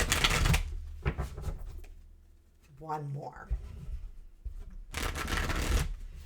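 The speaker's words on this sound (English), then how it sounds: "Let me give it a couple more shuffles." Rapid riffling bursts of a card deck being shuffled, loud and close, at the start and end, with a short spoken phrase in between.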